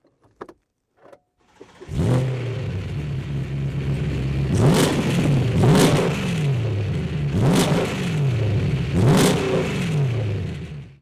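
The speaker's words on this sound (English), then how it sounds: "Titanium exhaust." A BMW M3 GTS with a titanium exhaust starts up, then its engine is blipped in four sharp revs, each rising and falling back to a close, loud idle.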